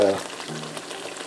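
Steady sizzling of Jamaican green plantains frying crispy in hot oil, close up, with a brief voice at the start.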